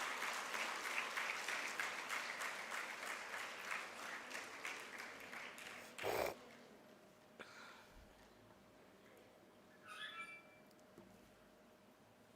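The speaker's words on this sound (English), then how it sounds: "Give them a round of applause, my dear girls." An audience at an International Women's Day event gives speakers a round of applause: steady dense clapping for about six seconds, then it stops abruptly into a quiet room with a few faint distant sounds.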